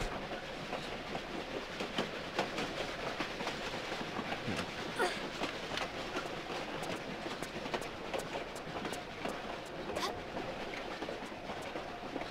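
A train in a Tomb Raider custom level game rumbles steadily with continuous rolling clatter and rhythmic clicks of wheels on track throughout.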